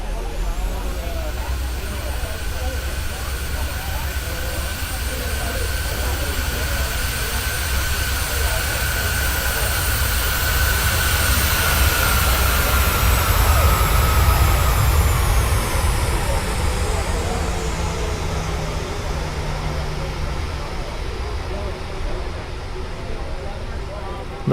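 A Boeing 737 jet on landing approach in the video game Flight Simulator 2020, with a steady engine roar and a whine that slowly falls in pitch as the plane passes, swelling louder midway and then easing off.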